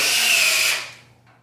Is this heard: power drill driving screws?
yes